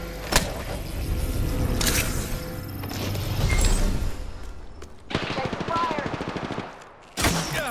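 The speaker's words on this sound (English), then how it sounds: "Take fire! Getting shot at! I'm taking fire!" Gunfire in the video game Apex Legends: bursts of automatic shots and impacts arrive in several clusters over a busy mix of game sounds and other effects, loud and close, with brief gaps between volleys.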